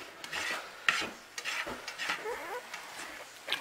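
Food sizzles and crackles in a pan as it is stirred, with soft scraping strokes and an uneven hiss, close up and moderately quiet, no talking.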